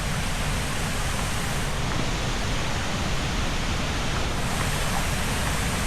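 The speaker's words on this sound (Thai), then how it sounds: "จอดรถปุ๊บ เจอน้ำตกเลยนะนะสบายไม่ต้องเดินไกล" Wachirathan waterfall on Doi Inthanon in Chiang Mai pours with a loud, steady, broadband roar, constant and close with no pauses.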